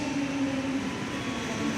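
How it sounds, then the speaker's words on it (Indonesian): The Gaya Baru Malam Selatan passenger train departs Kroya station, giving a steady low rumble and hum with a faint whine, continuous and fairly loud with no talk. "Ini kereta api Gaya Baru Malam Selatan"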